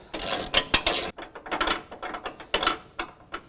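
A ratchet loosens a front bumper fastener on a 2017 Ford Raptor, giving close, loud bursts of rapid clicking in uneven strokes with short pauses between them.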